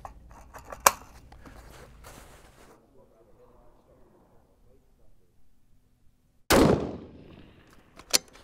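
A single loud, sharp rifle shot from an ARC Mausingfield cracks at an outdoor range and decays quickly, after a quiet stretch with a few distant pops and clanks, followed by a brief metallic click.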